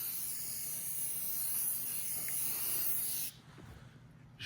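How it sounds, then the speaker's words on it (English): Aerosol detailing shine sprayed onto a car's engine bay, a continuous close bright hiss lasting a few seconds before cutting off abruptly, followed by quiet handling noise. "Now, I'm spraying some instant shine up in there."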